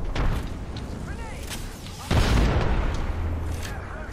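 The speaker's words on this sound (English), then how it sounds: "Grenade!" A grenade goes off in Apex Legends, a heavy low boom bursting out midway through amid ongoing game sounds and scattered shots, with a voice talking around it.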